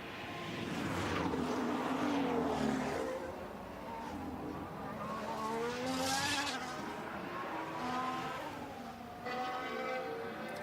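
Formula 1 cars on track during qualifying at the 2025 Japanese Grand Prix, high revving engine whines rising and falling in pitch as cars pass, heard at a moderate distance with a broadcast commentator talking over them.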